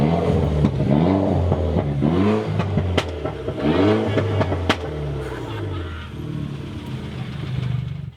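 A modified car at a car meet revs its engine repeatedly in short rising and falling bursts, loud and close. Sharp clattering knocks and crowd voices come in between the revs.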